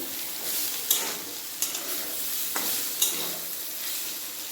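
Ivy gourd and potatoes fry in an open pan with a continuous bright sizzle, punctuated by a few soft clicks and scrapes of a spatula stirring, close and steady with no voices.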